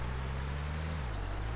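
A truck in the video game Farming Simulator 2013 lets out a loud, continuous air-brake hiss over a low engine hum whose pitch drops partway through.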